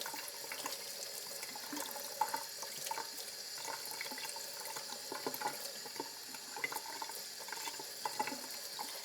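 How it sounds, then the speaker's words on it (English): A kitchen tap runs steadily while raw chicken thighs are rinsed under it in a sink, a close, continuous hiss of water broken by small splashes, with no talking. "So I'm gonna give these a quick rinse"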